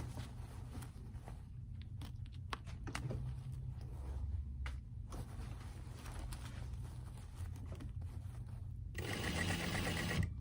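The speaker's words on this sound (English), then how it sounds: "So I'm continuing sewing here." A sewing machine stitches a dress while the zipper is attached, running in a steady close whir with brief pauses and rattling bursts, louder toward the end.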